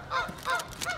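Geese at a zoo honking three times in quick succession, loud and close, with no talk over them.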